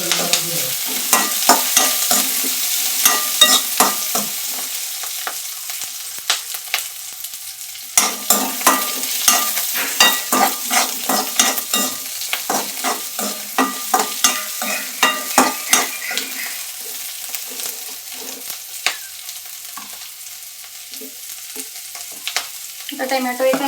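Garlic sautéed and stirred in a pan for kharda gives a steady frying sizzle under repeated scraping stirs. The stirring comes in close, busy bursts and eases off briefly near the middle.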